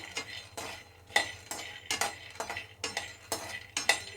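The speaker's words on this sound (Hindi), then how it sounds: "देखिए बादाम भून चुके हैं पूरी तरीके से।" A utensil stirs almonds as they dry-roast in a pan, scraping in a steady rhythm of about nine strokes at close range with a faint crackle beneath.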